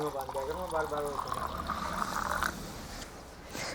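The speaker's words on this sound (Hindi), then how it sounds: "अब ये थोड़ा पानी पी लेते हैं।" Water poured from a clay pot into a glass, a gurgling fill whose tone rises as the glass fills, then gives way to quieter liquid sounds.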